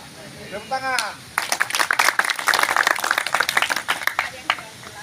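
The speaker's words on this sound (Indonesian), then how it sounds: "Tepuk tangan." Applause from a group at a church confirmation-class retreat: a brief voice comes first, then dense, close clapping erupts and holds steady at a lively level to the end.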